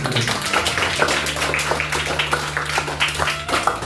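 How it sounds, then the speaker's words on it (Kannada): Audience at a Basava Jayanti gathering claps in a sustained, dense round of applause with a steady low hum underneath. "ಇನ್ನೊಮ್ಮೆ ಚಪ್ಪಾಳೆ ಬರಬೇಕು"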